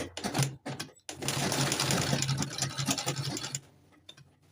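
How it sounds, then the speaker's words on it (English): A sewing machine stitching a corset bone channel runs in a few short starts, then stitches steadily for a couple of seconds before stopping, close and moderately loud. "after I've secured it with the sewing machine"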